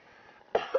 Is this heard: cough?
yes